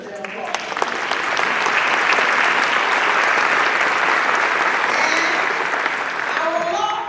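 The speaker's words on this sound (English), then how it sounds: "That deserves an applause." An audience at a community justice action gathering breaks into sustained clapping that swells quickly and holds strong for several seconds before thinning out, with a voice speaking briefly at the start and again as it fades.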